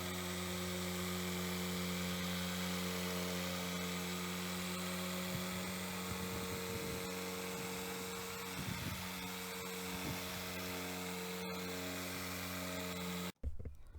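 A buffing machine takes excess product off the paint of a BMW X5 during a full detail, giving a steady, high-pitched, whining hum that runs unbroken and close before a sudden stop and a brief clatter at the end.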